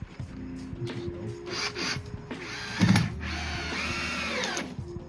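A power drill drives screws while a vocal booth is being built, with short whirring bursts, ratcheting clicks and a louder clunk near the middle, close by.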